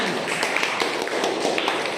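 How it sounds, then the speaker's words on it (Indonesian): Students in a classroom teaching-practice session applaud, a short run of scattered, moderately quiet hand claps at steady density with faint room voices beneath. "Oke, tepuk tangan."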